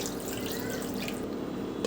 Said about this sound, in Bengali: অন্য একটু পানি দিয়ে দিব